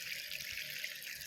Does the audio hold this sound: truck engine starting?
no